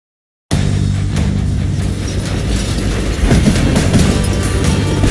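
Loud, close train rumble from a Roblox game after a brief silent start, with steady low droning and rhythmic clickety-clack of wheels over rail joints, plus occasional metallic squeals toward the end.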